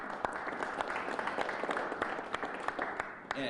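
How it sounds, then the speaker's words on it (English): An audience at a Springfield city ceremony for Black American Heritage Month gives a round of applause, a steady, fairly faint wash of many hands clapping that carries evenly throughout and fades slightly at the end. "So please give yourselves a round of applause"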